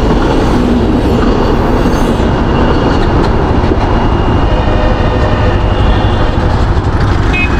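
A train rumbles loudly and continuously past a railway crossing with a signal, wheels clattering and squealing throughout, heard up close from the roadside.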